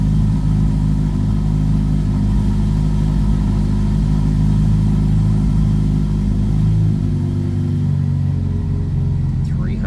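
A 2025 Ferrari Roma Spyder engine after a cold start, idling with a loud, steady low rumble that holds throughout and eases slightly near the end.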